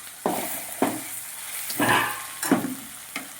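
Ingredients for pudina fried rice fry in a pan, a soft steady sizzle broken by four or five distinct stirring scrapes at a slow, uneven rhythm.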